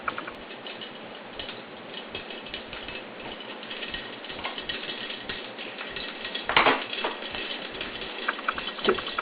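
Mustard seeds pop and sputter in hot oil in a pot while making upma, a dense run of quick, sharp ticking crackles that grows busier, with a few louder bursts near the end.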